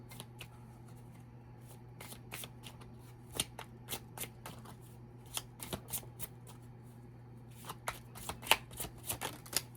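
Tarot cards are shuffled by hand in a quiet room: repeated crisp riffles and soft slaps in irregular bursts over a faint steady hum, with no voice.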